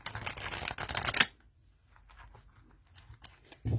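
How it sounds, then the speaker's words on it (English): A new tarot deck is shuffled by hand, a loud dense riffle of cards for just over a second, then quieter scattered card rustles and a final brief burst. "They shuffle sideways nicely."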